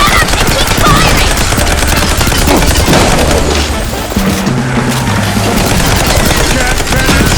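Continuous heavy gunfire roars in the video game Mouse: P.I. For Hire, dense rapid shots and booms sustained at full volume throughout without a break.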